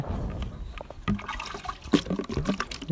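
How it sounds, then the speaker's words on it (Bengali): Liquid premix pours into a bucket with uneven splashing and trickling, nearby and moderately loud, by itself without speech. "তাই জন্য বালতিতে ঢেলে নিচ্ছি"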